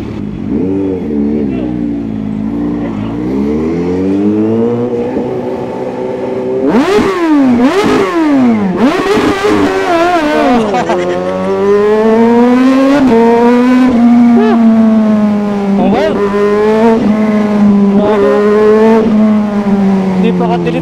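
A supercharged Kawasaki ZH2 motorcycle with a loud aftermarket exhaust revs up close, its engine swooping through rising and falling pitches in sharp blips before settling into a sustained roaring drone, with people talking at times.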